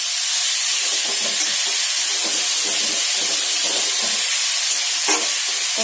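Tomato going into spices frying in a pan for a banana-flower and potato dish, a loud continuous sizzling hiss with soft stirring scrapes, close up with no talk.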